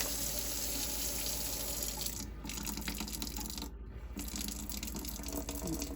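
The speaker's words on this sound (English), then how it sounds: "we're going to reduce this to like a pencil-like trickle" A thin, pencil-like trickle of water runs steadily from a kitchen tap into a sink's garbage disposal, close and continuous, with no talking.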